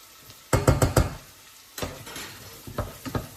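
A spoon stirs softened, browning onions with a spoonful of curry powder in a pot for a sweet potato and coconut soup: a quick cluster of scraping, knocking strokes, then a few scattered scrapes, close and fairly quiet.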